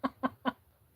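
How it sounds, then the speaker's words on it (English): Three quick, close clucks from newly acquired chickens, evenly spaced in a short rhythmic burst before falling quiet. "unexpectedly coming home with 2 more chickens."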